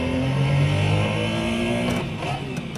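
A race car engine in the eBernina GT racing game revs hard with a steady rising drone, then the pitch shifts as it changes gear, loud and continuous.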